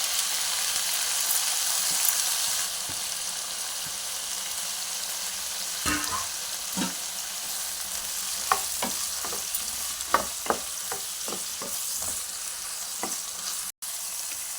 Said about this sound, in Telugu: ఇందులోనే ఈ దోసకాయ ముక్కలు వేసి వేయించుకున్నాం